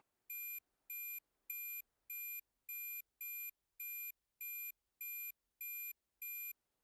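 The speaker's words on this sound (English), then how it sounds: "Listening to the gentle beeps of our RWR and the F4." An F-4's radar warning receiver in the DCS flight simulator emits a steady series of eleven identical short, clean electronic beeps evenly spaced about two-thirds of a second apart, alone with no talking.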